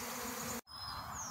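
Steady, dense buzzing of a bee swarm close by, briefly cut off by a short dropout before the droning swarm resumes.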